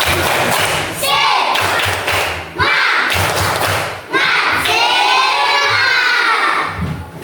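A classroom group does a rhythmic clapping chant as an ice breaker, bursts of loud claps and children's shouting voices repeating in short phrases, with thuds and cheering between rounds.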